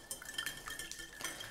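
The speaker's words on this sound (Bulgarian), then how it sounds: "В купа разбивам яйцето." Whisk or fork clicking rapidly against a bowl while an egg is beaten, a quick, light, faint rhythmic tapping over about a second and a half.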